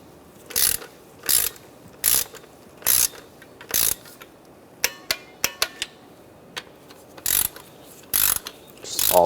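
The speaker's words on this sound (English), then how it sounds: "Now we're going to torque these to 88 inch-pounds, and we're going to start with the center ones first." Ratcheting clicks from a torque wrench tightening valve cover bolts on a 2007-2013 Mini Cooper, heard as a series of short, close bursts with brief pauses between them, then a quicker run of individual clicks, with no talking.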